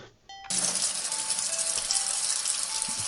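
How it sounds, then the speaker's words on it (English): Tap water gushing steadily into a sink in a cat-bathing game, switching on abruptly and then running loud and unbroken at close range. "So you pick the cat up and place it gently in the sink before turning on the water."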